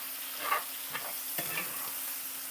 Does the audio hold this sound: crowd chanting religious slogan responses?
no